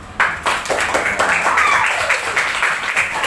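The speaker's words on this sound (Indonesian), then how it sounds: "Tepuk tangan." Classroom clapping from students during a lesson, a short burst of applause lasting about three seconds, fairly loud and close, with no voices over it.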